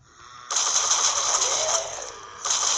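Rapid automatic gunfire from the mobile zombie shooter Zombie Frontier, a loud continuous burst lasting over a second with a brief lull, then firing resumes, with no talk over it.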